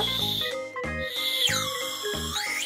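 A slide whistle candy plays up close, its pitch gliding up and down in short warbling phrases as its stick is pushed and pulled.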